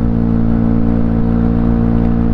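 A tuned Honda Scoopy scooter with a 53 mm-spec engine, 8-gram rollers and a bored-out exhaust holds a loud, steady buzzing engine note close by, sustained without pause and free of voices.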